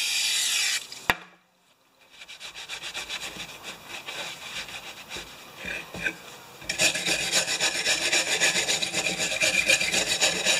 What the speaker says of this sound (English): But I'm going to wire brush that.